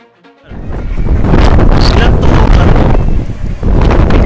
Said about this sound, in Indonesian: Badai angin kencang di Valencia, Spanyol.